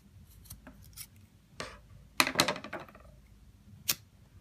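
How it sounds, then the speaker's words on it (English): Scissors snip through the end of a paracord bracelet being tied in a Solomon's dragon pattern, with a few light clicks and a sharp, close cluster of cuts followed by one more crisp snip. "We're going to cut this end off."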